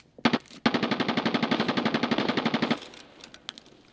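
Rapid automatic gunfire in Escape From Tarkov, a short opening shot then a sustained burst of around twenty evenly spaced, loud reports, followed by a few scattered faint shots.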